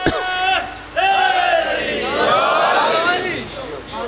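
A crowd at a Muharram majlis gathering in Dina loudly chants religious slogans in unison, with repeated rising calls close and strong, sustained over several seconds before fading slightly at the end.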